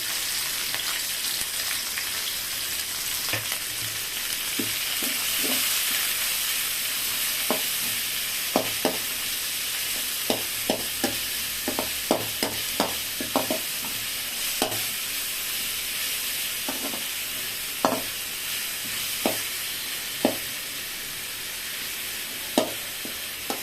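Green chili, tomato, curry leaves and ginger-garlic frying together in a pan, a steady close sizzle broken by a scatter of sharp spoon taps and scrapes against the pan.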